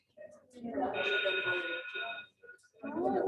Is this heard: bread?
no